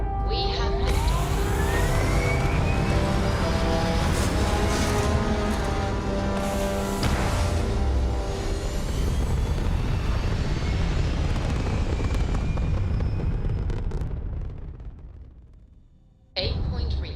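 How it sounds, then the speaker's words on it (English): A spaceship lifts off in the video game Starfield, a loud, sustained roaring rumble with rising tonal whine that holds steady for about fourteen seconds, fades briefly, then surges back. "We have liftoff."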